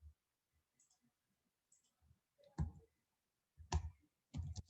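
A computer mouse clicks quietly a few times, soft isolated ticks followed by a handful of louder clustered clicks in an otherwise silent room.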